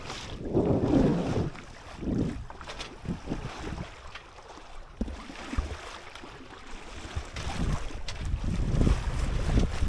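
Wind gusts against the microphone over water sloshing along a hull, a sailboat moving steadily with no voices.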